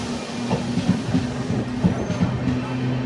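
Bengaluru-Tirupati Intercity SF Express train running steadily on rails, a continuous rumbling hum with rhythmic wheel clatter and faint clicks, heard from inside the moving coach with a soft murmur of voices underneath.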